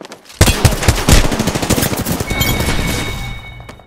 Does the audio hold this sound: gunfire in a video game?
yes